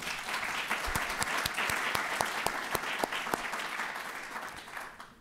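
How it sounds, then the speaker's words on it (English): Audience applause at a White House Recovery Month summit, a full room clapping steadily for several seconds before fading slightly at the close. "Let's have a round of applause for everybody."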